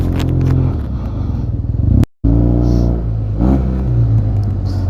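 Yamaha TMAX 560 scooter with an aftermarket Termignoni exhaust, close and loud, its engine note droning and rising, dropping out briefly midway before revving back up.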